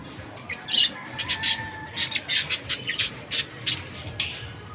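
Pet lovebirds, an opaline bird and a green Fischer's, squawk close by in a rapid series of sharp, harsh calls over a steady background hum.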